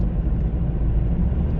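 Car pulling hard in fourth gear under full throttle, a loud, close, rough engine roar that holds steady through a short burst.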